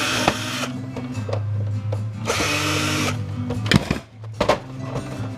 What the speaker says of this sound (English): Let's get the screws out of this.